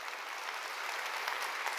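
A church congregation claps in dense, even applause during a sermon, a steady wash of many hands heard alone for a couple of seconds.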